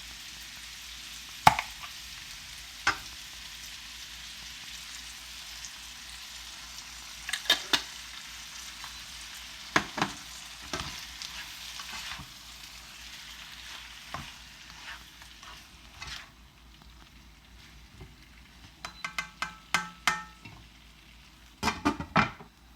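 Vegetables in homemade-style tomato sauce bubble and sizzle softly in a pan, a low steady hiss broken by occasional clinks and scrapes of a utensil against the pan, rising into a cluster of clatters near the end.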